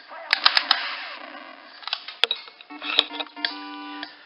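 Gunshots in the NES light-gun game Wild Gunman come as several sharp electronic cracks in quick bursts, mixed with chiptune blips and tones.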